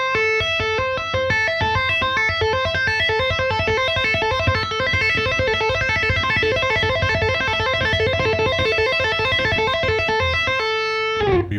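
Fast electric guitar tapping plays as a rapid, even stream of repeating bright notes, clean and loud for about eleven seconds before stopping abruptly.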